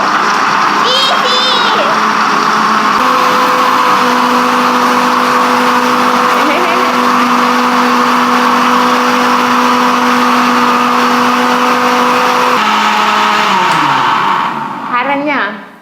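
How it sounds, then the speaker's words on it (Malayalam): An electric mixer grinder (mixie) blends green mango for homemade ice cream, a steady loud motor whine holding for about ten seconds before winding down, with a voice talking briefly at the start. "ഇപ്പൊ ഞാൻ മിക്സി അടിക്കും."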